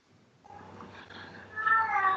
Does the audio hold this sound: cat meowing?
yes